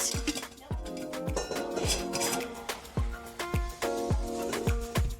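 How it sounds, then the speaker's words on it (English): Dry banana bread ingredients are whisked in a bowl, a quick run of rhythmic metal-on-bowl clinks and scrapes, moderately close and steady. "One quick little whisk, and there's our dry mix."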